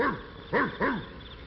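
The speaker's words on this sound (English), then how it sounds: "out from behind a bush jumped Major, one of the biggest, most ferocious hound dogs in the forest" A big hound dog in an old cartoon lets out three deep, bold barks in quick succession, loud and close, each with a swooping bow-wow shape, heard alone.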